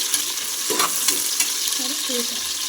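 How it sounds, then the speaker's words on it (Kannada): Urad dal frying in hot oil until golden, a steady close sizzle with a few light stirring clicks. "ಸ್ವಲ್ಪ ಫ್ರೈ ಆಗಬೇಕು ಎಲ್ಲೋ ಕಲರ್ ಗೋಲ್ಡನ್ ಫ್ರೈ ಆಗೋವರೆಗೂ ಫ್ರೈ ಮಾಡಬೇಕು"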